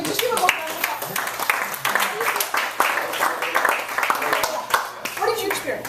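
Clapping from a small group, continuous and uneven, with voices talking and calling out over it.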